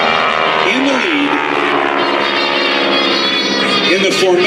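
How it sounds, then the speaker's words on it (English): Two warbird trainer airplanes flying a formation maneuver at an airshow, a steady loud propeller engine drone with rising and falling pitch sweeps as they pass, heard over continuous crowd or commentary noise. "Now let's watch as these 2 airplanes go into their next maneuver, with Chris in the lead"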